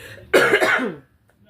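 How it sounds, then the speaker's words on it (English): One short, close cough from a woman with a throat cold, harsh and throaty, standing alone before quiet returns. "I still got that little cough, that little cold in my throat."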